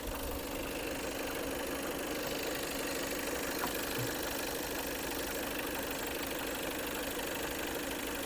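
A 2020 Volkswagen Passat Alltrack 4Motion engine idles with a steady, even hum and faint ticking, continuous and moderately quiet throughout, with no voices.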